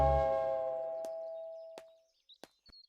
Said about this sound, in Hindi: मैंने घर के कंपाउंड में जाके डोरबेल बजाई